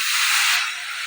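Water poured into hot masala frying in a pan for Assamese chickpea ghugni gives a loud, steady sizzling hiss that eases slightly toward the end.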